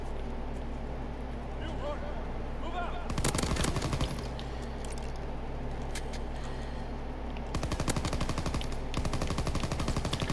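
PPSh submachine gun fire in a World War II online shooter game, with rapid bursts of automatic shots over continuous game noise, two long bursts standing out and people talking throughout.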